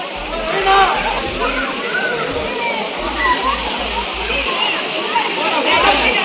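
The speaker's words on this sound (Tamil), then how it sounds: "நான் எதிர்பார்த்ததை விட தண்ணி நல்லா வருது." Kailasa Kona waterfall pours steadily, a broad rushing hiss of falling water heard close by that keeps going throughout, with someone speaking over it.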